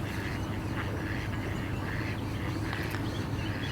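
Ducks quack across a fishing lake during a live fishing match, the calls mid-distance and intermittent over a steady, broad outdoor background hiss.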